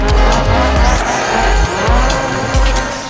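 A race car drifts in the GRiD Autosport racing game: loud, sustained engine roar with repeated sharp tire squeals and skids recurring through the slide, close and continuous, with no talking.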